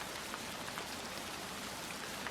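Steady rain patters densely on a surface at night, an even hiss of countless drops that stays constant and fairly soft, with no voices or other sounds.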